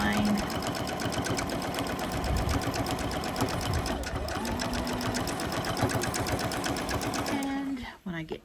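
A sewing machine stitches fabric for a boxy pincushion, a close, fast, even mechanical whirr that runs steadily for several seconds before stopping, with a voice talking over it.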